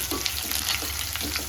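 Whole spices such as cloves, cardamom and bay leaf frying with chopped onions in ghee for ghee rice give a steady close sizzle, with faint stirring scrapes running through it.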